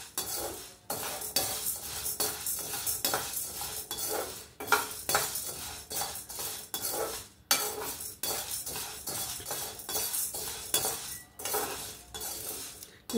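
Stirring and frying in a pan on a stove set to medium, with metal utensil scrapes and clinks against the pan coming in quick, irregular strokes, fairly close, with no talking.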